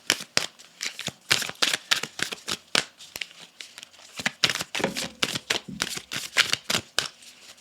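Gaia oracle cards shuffled for a tarot reading, a rapid run of crisp riffling flicks and soft slaps, close and steady throughout.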